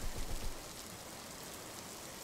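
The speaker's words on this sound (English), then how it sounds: "The rain is so strong." Steady broadband hiss of heavy rain falling in a video game, continuous and fairly even in level, with no voices over it.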